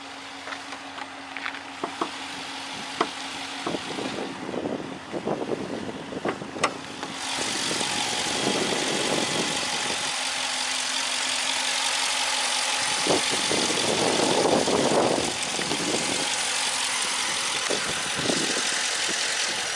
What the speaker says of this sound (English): You see there's a V8, very popular engine with a quarter packs there.